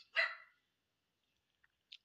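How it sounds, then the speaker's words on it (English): A dog gives one short sharp bark, close and clear, followed by a couple of faint tiny yips or sniffs in otherwise quiet surroundings. "Bailey, my dog, agrees with me"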